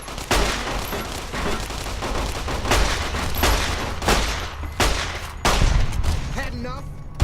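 Gunfire in the video game Fallout New Vegas: a rapid string of loud, close shots and bursts in irregular clusters, with a voice talking among the shots.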